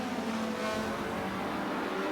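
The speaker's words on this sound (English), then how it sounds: "You can hear that turbo dump" Race car in an M-Class time-attack final, engine noise with a turbo dump heard as a brief whooshing release, steady and fairly close, with no voices.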